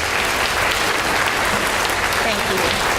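An audience at a high school senior awards ceremony claps loudly and steadily, a dense wash of applause that holds without letup from start to finish.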